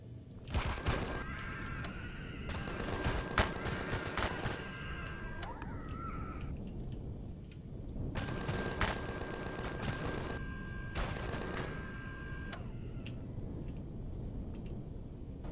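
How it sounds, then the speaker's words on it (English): Gunfire and explosions in the space combat game Empyrion Galactic Survival, with incoming fire from a Xeno fortress: two long stretches of dense, rapid shots and blasts, separated by a brief quieter gap, all over a continuous rumbling background. "I can see incoming fire from the Xeno Fortress P1"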